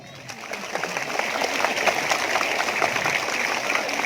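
A crowd claps steadily and fairly loudly at a school event, a dense continuous patter of many hands building slightly and holding through to the end.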